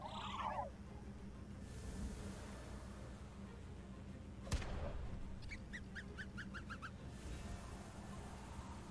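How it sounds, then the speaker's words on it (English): A creature in the TemTem video game gives a quick run of about seven short, high, sad-sounding chirps over steady game background sound. "It makes such sad chirping noises."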